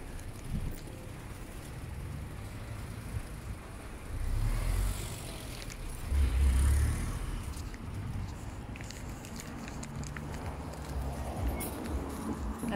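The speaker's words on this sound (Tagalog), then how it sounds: "Traffic na." Street traffic passes on a London high street under roadworks, steady low rumble of vehicles with wind buffeting the microphone and a couple of louder swells as cars go by nearby.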